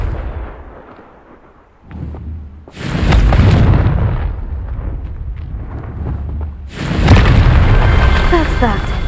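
A Confringo blasting spell in Hogwarts Legacy sets off loud, close explosions: one burst around three seconds in and a second blast near the end, each with a heavy booming rumble after a quieter stretch.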